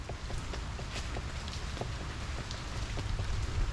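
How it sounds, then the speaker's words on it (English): Light rain patters outdoors, a dense, steady wash of small drops with a few scattered taps, fairly close and constant; no talking. "it was just small rain"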